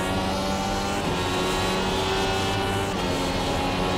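Race car engine held at full revs in the iRacing sim at Long Beach, a steady dense drone filling the clip with sustained harmonic tones, loud and continuous with no talk.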